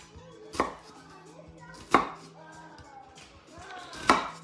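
A knife cuts through rabbit meat on a board, three distinct chopping thuds spaced about 1.5 seconds apart, close and fairly quiet with faint room noise between strokes.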